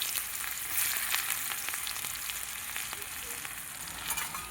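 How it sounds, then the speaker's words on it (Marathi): Onion fries in hot oil with cumin and asafoetida, a steady close sizzle with crackling pops and occasional stirring scrapes, heard alone without talk. "आता आपल्याला कांदा चांगला तळून घ्यायचा आहे."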